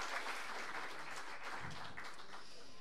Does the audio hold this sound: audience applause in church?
yes